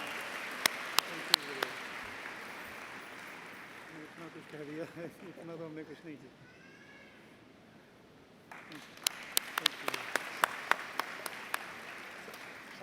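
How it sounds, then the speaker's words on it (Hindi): Brief crowd applause at a spiritual meditation gathering, fairly faint and mixed with someone speaking. Scattered clapping returns near the end. "एक बार जोरदार तालियां,"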